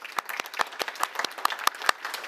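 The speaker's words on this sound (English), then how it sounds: "So Cindy, round of applause, thank you." Live audience at a clinic podcast recording gives a short round of applause, a smallish crowd clapping with sharp, uneven individual claps close to the microphone, no talk over it.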